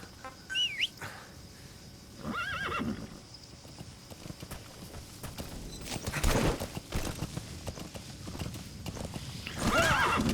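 Horse in the Metal Gear Solid 5 video game neighs and whinnies, then gallops in with steady clip-clop hoofbeats, with a few chirping birds in the background.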